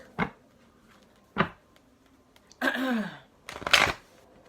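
A deck of tarot cards, somewhat stiff, shuffled in several brisk riffles, separated by short pauses, close and clear with no talking.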